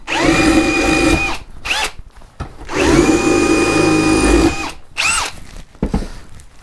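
A Bosch GSR 18V-150C cordless drill bores into a cinder block. The motor whines close up in several bursts separated by short pauses, with the pitch sagging as it bites into the block.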